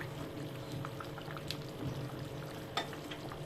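Koi fish curry with new potatoes being stirred in a pot, giving soft, faint scraping and liquid stirring with a low simmering bubble and an occasional light clink, steady and without talk.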